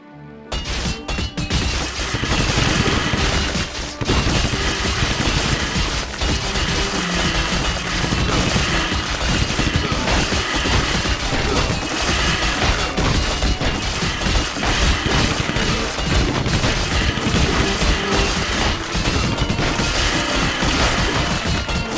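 Video game battle with dense, continuous gunfire, crashes and explosions, loud and chaotic throughout, layered over a constant rumbling din.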